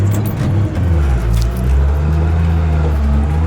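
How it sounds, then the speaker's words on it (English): Cable skidder logging machine, a 30,000-pound short-wheelbase unit, running steadily in the woods, its low diesel engine drone continuous and fairly close with slight variation in pitch. "This skidder is good for skidding off a timber cutter in tight woods with select cut."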